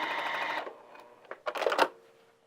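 A sewing machine stitches a cuddle scarf in a steady, close whirring run for about half a second, then stops, followed by a few short clicks and bumps of handling the fabric.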